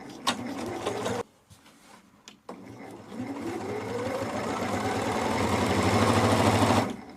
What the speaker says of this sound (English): I'm going to sew until I run out because there's barely anything left.